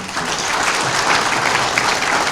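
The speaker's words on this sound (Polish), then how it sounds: "Podziękujmy oklaskami" Dense, steady applause from an audience at a Christmas Eve gathering at a college in Łomża, a continuous wash of many hands clapping with no voices over it.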